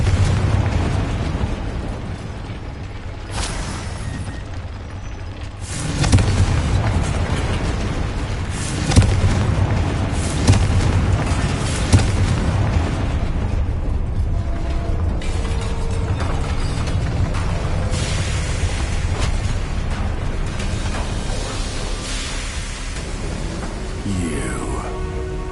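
Explosive spells such as Bombarda and Confringo go off in a Hogwarts video game, with repeated booming blasts and bursts over a dense, continuous game soundscape of clatter and effects.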